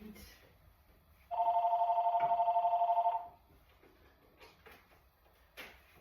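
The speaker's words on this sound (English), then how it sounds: "Someone just called and let it ring 20 times." A landline telephone rings in a home in one sustained electronic trill of about two seconds, loud and close, followed by quiet room sounds and a faint knock or two.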